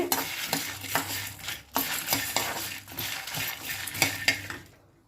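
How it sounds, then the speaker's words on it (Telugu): Coriander seeds dry-roasting in a pan for a peanut spice powder, with repeated scraping and clattering of a stirring spoon against the metal over a light sizzle, close and busy throughout, then fading at the end. "ధనియాలు వేస్తున్నాను ధనియాలు కూడా కొంచెం వేయించి"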